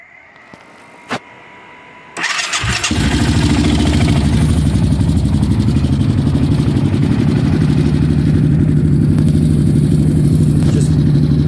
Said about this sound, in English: I'm gonna go ahead and turn it on now, so you can kind of hear her